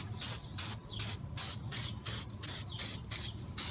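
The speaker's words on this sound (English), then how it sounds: "look at that black spray paint you got all over that thing" Black spray paint sprayed from a can onto a craft piece in rhythmic bursts, about eight short close hisses separated by brief pauses, with no talking.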